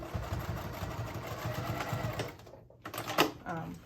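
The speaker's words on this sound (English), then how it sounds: "Make sure you stitch all the way to the edge" A home sewing machine runs steadily while stitching the corners of a color-block wristlet's panels, a continuous close mechanical whir that briefly stops and restarts near the end, with a person talking over it.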